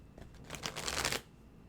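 A quick, close riffle of tarot cards being shuffled, a brief crisp flutter swelling and stopping within about a second, with no talking.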